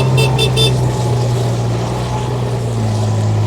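A 2017 Kubota RTV-X900 utility vehicle's engine runs loud and steady at close range, holding a continuous low drone as the vehicle drives and then comes to a stop.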